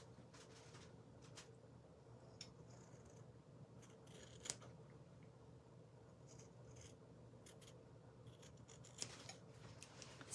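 Scissors snip through a paper craft piece for a pinwheel, with soft, quiet, irregular cuts and rustling close by. No one speaks.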